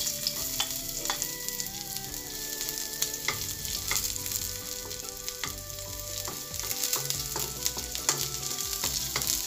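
Onion sautéing in hot oil in a pan for chicken adobo, a close continuous crackling sizzle with frequent small pops and stirring scrapes, without any talk.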